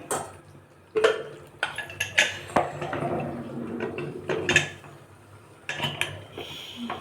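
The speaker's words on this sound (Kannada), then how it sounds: "ಈಗ ಒಂದು ರೌಂಡು ತಿರುಗಿಸ್ಬಿಟ್ಟು ನಾನು ಲಿಡ್ಡನ್ನು ಕ್ಲೋಸ್ ಮಾಡ್ತೀನಿ" A lid closed on a cooking pot, or pressure cooker, of fenugreek leaf pulao, with scattered metallic clinks, taps and scrapes of cookware, fairly close and fairly quiet, no talking.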